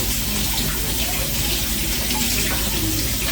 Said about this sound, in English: Let me rinse my hands here well.